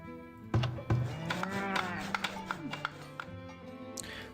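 Cattle moo in a long, drawn-out, wavering bellow in the Farthest Frontier video game, with sharp thunks and clicks around it and some talk mixed in.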